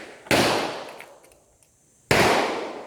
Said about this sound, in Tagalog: Ganda ng pagkakatunog ng mga baril.